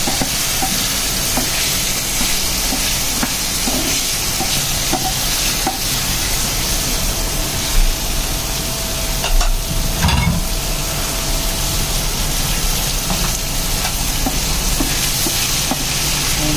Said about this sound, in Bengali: আলুটা আর মাছের মাথাগুলোকে আগে সুন্দর করে কষিয়ে নেব